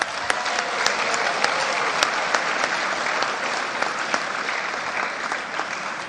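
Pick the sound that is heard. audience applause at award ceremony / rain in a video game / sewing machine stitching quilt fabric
audience applause at award ceremony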